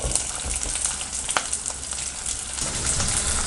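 Big onions, with small onions already in, fry loudly in a pan for village-style mutton kuzhambu, a dense continuous sizzle and crackle with occasional stirring scrapes and no talking.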